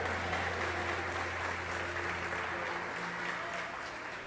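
Steady applause from a church congregation fills the space, even and sustained throughout, with a sudden louder burst at the very end.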